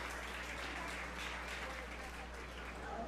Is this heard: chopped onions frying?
no